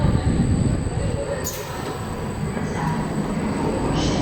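A Swiss passenger train rumbles steadily nearby, wheels rolling with occasional high squeals, a continuous loud mechanical roar.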